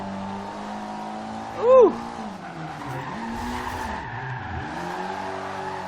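Engine of a Mitsubishi Evo VI rally car in the Forza Horizon 2 racing game drones steadily, with a brief sharp tire skid mid-clip and a couple of dips as revs drop; a voice briefly exclaims.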